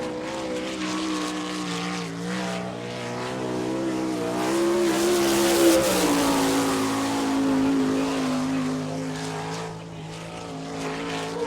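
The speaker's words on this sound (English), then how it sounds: "The 5 car from Monclova, Ohio, it's Byron Reed." A sprint-style race car on a qualifying lap at I-96 Speedway in Lake Odessa, Michigan, its engine droning steadily with a rising and falling pitch as it circles the track, heard from a distance, loud and continuous with no talk.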